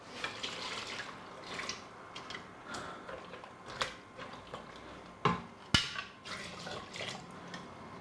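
Water from a litre jug poured into a pot of Persian aubergine and lentil stew, heard as faint trickling, dripping and splashing with several sharper splashes and clinks near the end, close and quiet.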